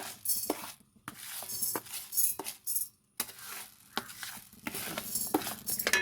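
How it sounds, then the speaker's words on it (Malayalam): Lentils and urad dal dry roasting in a pan, with intermittent scraping, stirring and light clinks of the spoon against the pan, bursts separated by short quiet gaps. "അപ്പോൾ ഞാനിത് വറുത്തെടുത്തിട്ട് വരാം."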